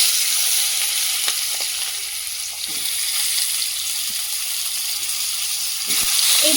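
Cut Chandramukhi potatoes and fish fry in very hot oil in a home kitchen. A loud, continuous sizzle holds steady throughout, with a few faint stirring knocks.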